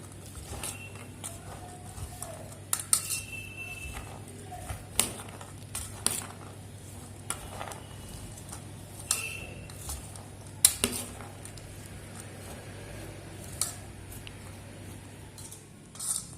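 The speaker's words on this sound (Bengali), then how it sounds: "সমস্ত কিছু একসঙ্গে মিশিয়ে মেখে নিচ্ছি।" A spoon mixes chickpea chaat with chaat masala in a bowl, making intermittent light clinks and taps against the bowl over a faint soft squish, quiet and close, with no speech.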